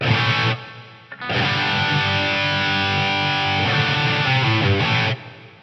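Distorted electric guitar chords run through a Roland SRV-2000 digital reverb with the high cut eased off, a loud sustained wash with bright reverb tails, one brief break before the chords resume, then a fading decay.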